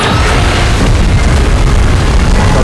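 A loud, sustained explosive roar from a beam blast in PUBG Mobile, with Godzilla firing; a dense, rumbling boom fills the whole stretch with no pause and no talking.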